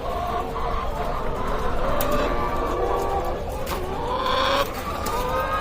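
On a layer hen farm holding about four and a half thousand birds, a dense chorus of clucking fills the air without pause, close and fairly loud.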